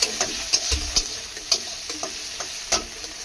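Chopped chili and tomato frying in a pan under a constant sizzle, stirred with frequent scraping clicks of a spatula against the metal in a quick, uneven rhythm.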